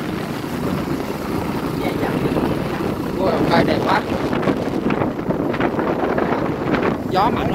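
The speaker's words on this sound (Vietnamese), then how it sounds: "Gió mạnh quá." Strong wind buffeting the microphone beside a seaside lighthouse, a loud continuous rumbling roar with gusty surges and flutter, close and steady throughout.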